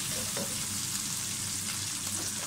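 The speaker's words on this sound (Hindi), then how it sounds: "फ्राई कर लेंगे इसको अच्छी तरह से।" Tomatoes with garlic and cumin fry in a pan with a steady, close, dense sizzle and crackle that runs unbroken throughout, with no voices.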